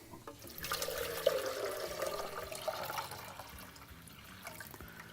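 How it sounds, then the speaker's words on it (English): Tap water runs into the removable water tank of a Gaggia Velasca Prestige espresso machine, a close rushing splash that swells for a few seconds, then tapers off to trickles. "we'll take our water tank now, and again with tap water, we're going to fill it to that Calc Clean line"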